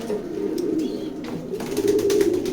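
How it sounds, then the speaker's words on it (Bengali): Racing pigeons from a loft coo in a low, steady murmur that runs throughout, with a few faint higher chirps and rustles on top; no talking. "যে কবুতরগুলো দেখালাম খুবই টপ টপ এবং ভালো কবুতর"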